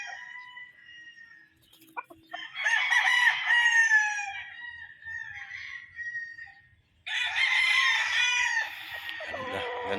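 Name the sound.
gamecocks crowing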